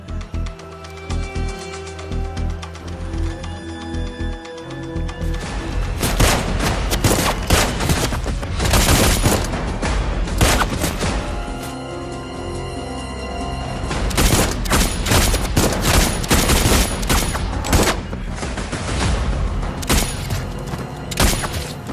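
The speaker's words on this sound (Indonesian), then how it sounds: "Alhasil Max pun terkena tembakan." Bursts of rapid gunfire and heavy booms crackle loudly, some volleys fast like machine guns, with brief lulls between the barrages.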